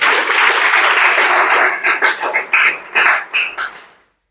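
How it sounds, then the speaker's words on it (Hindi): A class of students claps loudly in a burst of applause that fades into a few scattered, uneven claps before stopping. "चलो जोरदार ताली मारो तिलहन के लिए।"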